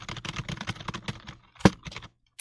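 Rapid typing on an LED 60% Bugha gaming keyboard, a quick run of crisp close key clicks with one louder bottom-out clack near the end before a short pause and a final tap.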